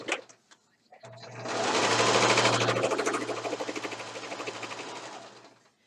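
A sewing machine runs steadily for several seconds stitching fabric for a trivet, a loud close rapid mechanical chatter that starts after a few faint clicks, slows toward the end, then stops.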